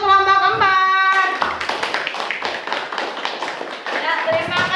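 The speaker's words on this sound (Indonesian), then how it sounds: "Tepuk tangan untuk kelompok 4." A classroom of students claps for a presenting group, with a brief tone first and then a dense burst of many hands applauding steadily at close range.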